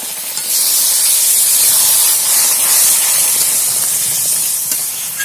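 A splash of water hitting a hot sweet tamarind pickle mixture in a pan, a loud sustained hissing burst of steam that stays strong for several seconds before easing slightly.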